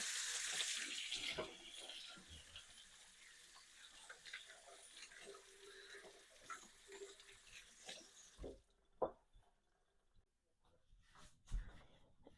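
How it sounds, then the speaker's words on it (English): Water runs from a kitchen tap as hands are washed before cooking pesto pasta, a steady broadband rush for about eight seconds that then stops, leaving scattered small splashes and drips. "we want to make sure we wash our hands"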